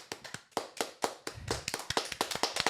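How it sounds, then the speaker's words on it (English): A round of applause from a small group, many sharp hand claps in a quick irregular patter that carries on through the whole stretch, with no talking over it. "A round of applause."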